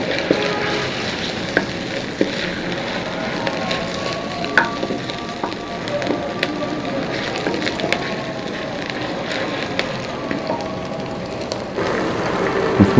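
Two red tomatoes frying in a pan for an aloo tindi masala, giving a steady, loud, close sizzle that runs unbroken throughout with faint stirring clicks, and no talking.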